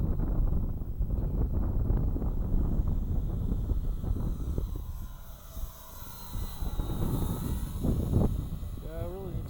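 A 72-inch Legacy Muscle Coupe RC model airplane flies overhead in windy conditions, its engine droning steadily with faint pitch shifts as it passes, mixed with heavy wind buffeting on the microphone throughout.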